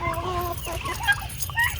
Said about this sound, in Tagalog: yung mga manok niyo po, pabo, ay mag-aabang na sa iyo